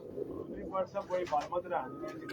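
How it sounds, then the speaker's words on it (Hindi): A Pathan pigeon coos in a few soft, rolling, throaty phrases close by, with a low murmur of background noise underneath. "ये पठान कबूतर है"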